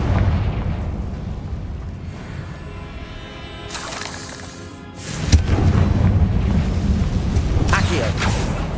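Confringo fire spell in the game Hogwarts Legacy, a booming fiery blast over a dense rumbling battle bed, with a sharp burst midway followed by sustained roaring noise, and a voice shouting among the effects.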